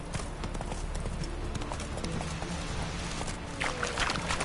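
Hooves of a horse at a steady gallop in The Witcher 3, a continuous rhythmic clip-clop running throughout under game ambience, growing slightly louder near the end.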